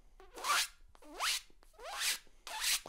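A mouth imitates a clothing zipper without using air, producing four rasping zips in a regular rhythm. Each zip rises and sweeps, is close and fairly loud, and no talking is heard.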